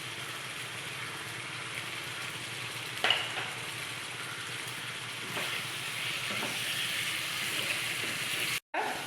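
Chicken keema with turmeric gently frying in a pan, a soft continuous sizzle with occasional stirring clicks and one brief clatter, fairly quiet and without talking.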